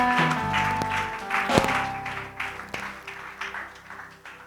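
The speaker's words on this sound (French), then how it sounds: "Acclamez le Seigneur Jésus." A congregation at a celebration church service claps and cheers for Jesus, a crowd of hands rising over sustained organ-like keyboard chords, with sharper bursts early on before it gradually thins and fades.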